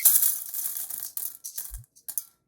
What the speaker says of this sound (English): Add the washed beans to the pot